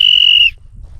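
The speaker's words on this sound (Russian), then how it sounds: "Я с собой взял вот такой свисток, чтобы не потеряться." A shrill hand whistle carried while camping in the wild on the shore of Lake Baikal gives one loud, sustained blast for about half a second, then stops, leaving faint low outdoor rumble.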